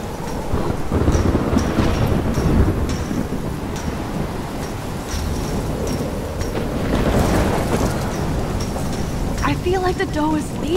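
A thunderstorm in the Life Is Strange video game, with dense steady rain and rolling thunder surges, loud and continuous, with a brief voice near the end.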